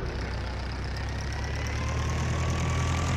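Modified Sonalika tractor engine in Farming Simulator 22, a steady mid-pitched diesel drone with low rumble and a rising whine, running continuously and fairly loud with no talk.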